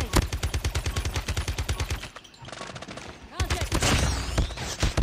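Rapid automatic gunfire from Call of Duty Mobile, loud and close, rattling in a steady burst, pausing briefly, then resuming in denser volleys with other game effects.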